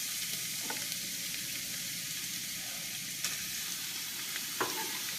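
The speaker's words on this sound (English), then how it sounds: "I'm going to put a little bit of olive oil in a pan, and I'm going to fry up those onions" Onions sizzle steadily in olive oil in a pan, a soft continuous crackling fry with a few faint clicks and stirring taps, heard alone and close.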